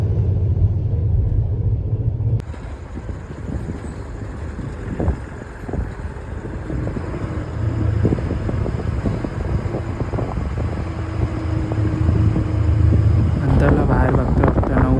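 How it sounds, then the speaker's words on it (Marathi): A sleeper bus engine rumbles steadily on an overnight run from Konkan to Mumbai, a continuous low drone with wind rush and faint high whine, loud and close throughout. "आपण ऐकू थोडं इंजनचा साऊंड"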